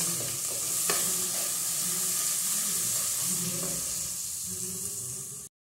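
Onion frying in a pan, a steady close sizzle with occasional stirring scrapes and a few soft clicks, continuous until it cuts off abruptly, with no voices.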